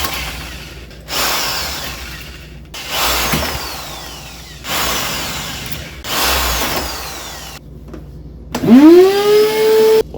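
A power drill whirs in several sustained bursts separated by short pauses, ending with a rising motor whine as it spins up.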